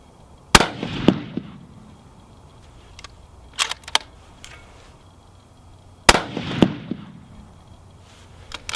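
Savage 10FP rifle firing .308 Winchester test loads outdoors, two loud sharp shots several seconds apart, each with a ringing echo, plus a few metallic clicks of the action in between.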